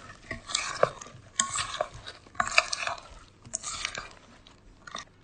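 Apple pieces being folded into cake batter, irregular wet squelching and scraping strokes in short bursts with quiet pauses between, close and fairly soft.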